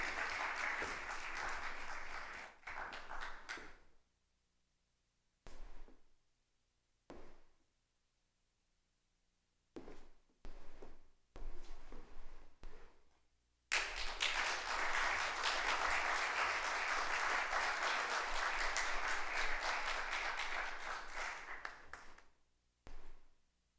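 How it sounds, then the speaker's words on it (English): An assembly audience at an opening ceremony applauds a Prime Minister and a Hall of Fame inductee, first in scattered, stop-start bursts, then in a long sustained roar of clapping that fades out near the end. "a round of applause for the Honorable Prime Minister and for our latest"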